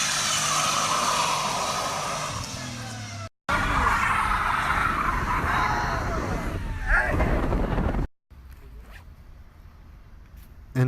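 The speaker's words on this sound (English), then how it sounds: "It had more than enough power to burn the new tires that I just bought" A Mazda Miata does a burnout on new tires in Mexico, producing a loud, continuous roaring hiss of spinning, screeching rubber. The sound comes in three abrupt cut sections, the last quieter and thinner.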